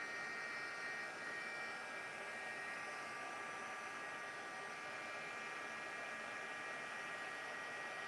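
An embossing heat tool blowing hot air to heat-set embossing powder, a steady broadband whooshing hum like a small hair dryer, continuous and fairly close throughout.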